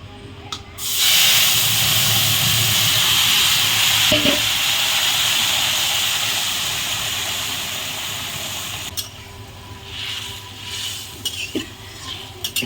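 Curry with elephant foot yam and hilsa fish is poured into a hot pan, setting off a loud rush of hissing, sizzling steam that slowly fades over several seconds, followed by scattered clinks and stirring.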